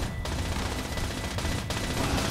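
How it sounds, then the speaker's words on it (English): Sustained heavy .50 cal machine-gun fire in Fallout 76, a dense, continuous stream of rapid shots with combat noise, loud and close, with no talk over it. "drain the rest of our fucking 50 cal ammo, huh?"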